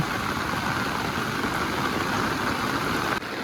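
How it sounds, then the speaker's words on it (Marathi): Steady, dense rain hiss with rainwater pouring down steps and splashing close by, continuous and even throughout. "पावसाचं पाणी बघा पायरीवरून कसं येतंय खाली"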